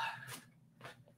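A pet dog lets out two short whimpering or whining yips, fairly close, with a pause between them and low room noise underneath.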